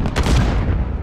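A missile launch and explosion in the Call of Duty Modern Warfare video game: one heavy, low boom that decays quickly into a rumbling tail, loud and near.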